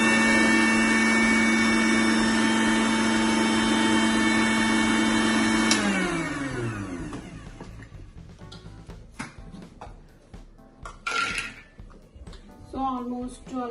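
A kitchen mixer grinder blending ginger and garlic whines loudly and steadily, then spins down with a falling pitch, followed by scattered clatter and handling noises.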